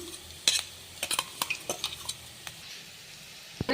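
Crushed green chillies hit a pan while cooking beans palya, giving a faint sizzle under scattered sharp clinks and scrapes of a spoon stirring against the metal.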